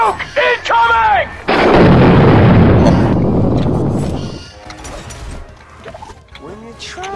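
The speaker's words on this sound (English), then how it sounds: "Tactical nuke incoming!" A tactical nuke in the video game Brawlhalla erupts as a loud, sustained roaring blast lasting a few seconds, then decays into a rumbling tail, with brief bursts of voices before and after.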